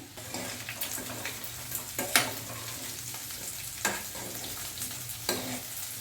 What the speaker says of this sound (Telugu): మధ్య మధ్యలో కలుపుకుంటూ ఫ్రై చేసుకోవాలండి